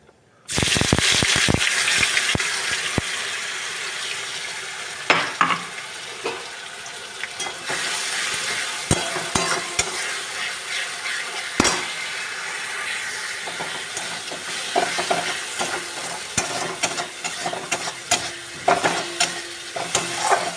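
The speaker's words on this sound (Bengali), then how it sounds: "এবার আমি পেস্ট করে নেওয়া পেঁয়াজটা এর মধ্যে দিয়ে দেবো" Onion paste frying and sizzling in a pan with tempered spices, with steady loud crackling and repeated stirring scrapes throughout, no voices.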